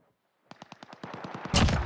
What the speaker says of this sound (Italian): Mi sparano addosso.